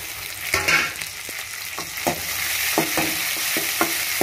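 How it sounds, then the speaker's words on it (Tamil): Onions and tomato sautéing in a pan for Tamil-style fish curry, a steady sizzle broken by repeated sharp scrapes and stirs of the spoon, close and fairly loud with no voices. "வெங்காயம் நல்லா வதக்கணும், நல்லா செவத்து வதக்கணும்"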